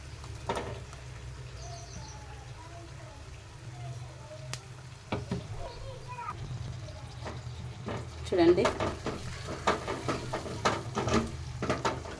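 Tomato puree stirred into chicken frying in a pan, with a steady sizzle under a voice and scraping spoon strokes that grow busier toward the end.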